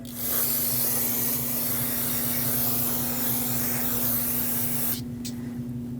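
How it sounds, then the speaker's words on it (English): Brake parts cleaner sprays from an aerosol can onto a clean rag during a rear brake job on a 2006-2015 Lexus IS250, a loud continuous hiss that cuts off sharply near the end over a low hum. "I'm using some brake parts cleaner on a clean rag and just wiping it off"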